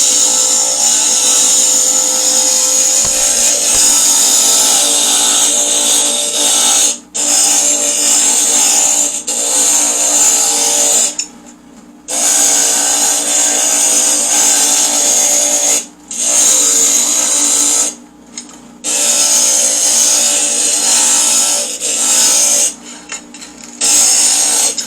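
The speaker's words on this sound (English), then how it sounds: "And again, I'll grind my black line." A stained glass grinder shapes a glass piece along its black marked line with a loud, steady high whine that runs continuously, broken by a few short pauses as the glass is lifted away.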